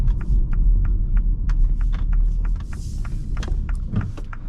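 A 2023 MINI Cooper Countryman S on the road, heard from inside the cabin as a deep steady engine and road rumble with repeated light ticking and clicking over the drone.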